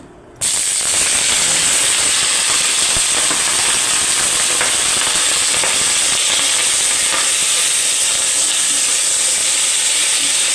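Chicken wings frying in hot olive oil give a loud, steady sizzle and hiss with scattered crackles, starting abruptly after a moment of quiet and continuing evenly.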